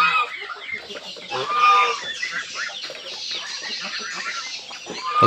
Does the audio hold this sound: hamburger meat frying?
no